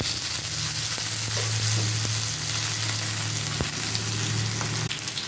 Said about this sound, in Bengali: আলুটাকেও আমি ভেজে নেব